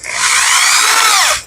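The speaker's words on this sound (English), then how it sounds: "So I'm going to do it the lazy man's way with a drill." A power drill spins a valve lapping tool against a valve seat on a cylinder head, giving a steady high-pitched whir that holds for over a second and then winds down.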